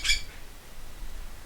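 A pet bird lets out one short, harsh squawk near the start, loud against the quiet room, then only faint background hiss remains.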